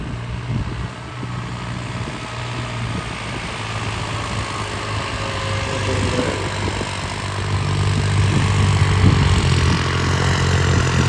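A 3630 tractor on 18-inch tyres running in a field with its plough, a steady loud engine drone with a low throbbing hum that strengthens slightly toward the end, with no talk.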